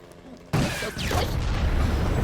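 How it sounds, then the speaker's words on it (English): A sudden loud explosion from the animated show Helluva Boss erupts with a sharp onset and then a sustained rumbling roar, close and full. "look at that explosion!"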